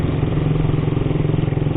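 A neglected Suzuki Satria motorcycle idles roughly close by, its engine beating in a fast, uneven chugging rhythm with a noisy exhaust, steady and loud throughout with no voices.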